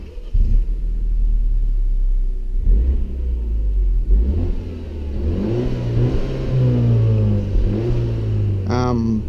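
The turbocharged engine of a 2016 Peugeot 308 GTi turns over and revs up several times, its pitch climbing and falling with each rise, close by and loud.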